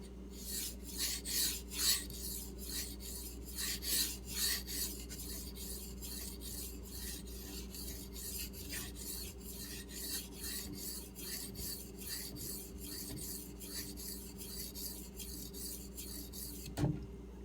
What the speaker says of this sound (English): so you can hear what this stone sounds like